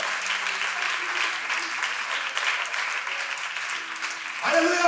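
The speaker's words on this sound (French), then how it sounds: "Applaudissez, applaudissez, applaudissez." Congregation clapping steadily at a French-language church service, a dense, moderately loud wash of applause sustained throughout, with faint voices and a brief louder swell near the end.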